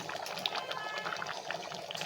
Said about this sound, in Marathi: भाताला छान उकळी आलेली आहे.